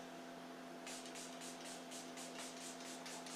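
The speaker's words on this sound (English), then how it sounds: "Don't ever talk when you spray your face." Leigh Make It Last setting spray misted onto a face in a rapid run of about eight short, soft hissing bursts, close and fairly quiet over a steady background hum.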